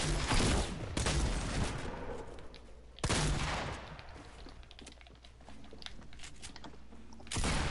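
Pump shotgun blasts in a video game: a few loud, heavy shots several seconds apart, each with a quick booming decay, over a steady background of game noise.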